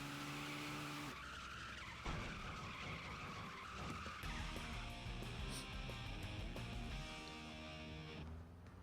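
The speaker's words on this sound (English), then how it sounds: "Do a little drifting." A car drifting in the racing video game Tokyo Xtreme Racer: sustained tire squeal and skidding over a revving engine and game music, loud and continuous with shifting pitch through the slide.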